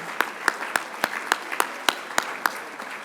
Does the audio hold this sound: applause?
yes